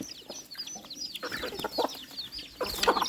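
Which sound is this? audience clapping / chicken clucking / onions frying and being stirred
chicken clucking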